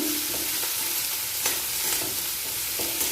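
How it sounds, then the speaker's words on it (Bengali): Chopped onions with green chillies frying in hot oil make a loud, continuous sizzle, punctuated by a few soft taps and scrapes as they are stirred in the pan, with no talking. "তেলের মধ্যে পেঁয়াজ নড়াচড়া করে নেব"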